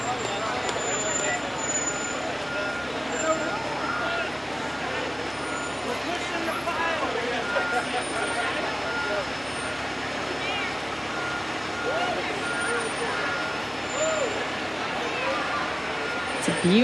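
Fire truck Ladder 75 backing into its new fire station, repeated reversing beeps over a rumbling engine, with people talking around it.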